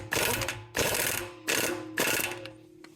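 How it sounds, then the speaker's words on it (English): An impact wrench on its lowest setting snugs an axle nut on a Tesla Model X, firing four short rattling bursts in an even rhythm, each loud and close, with brief pauses between them. "What I like to do is I go on my lowest setting here on my impact, just to get it snugged up."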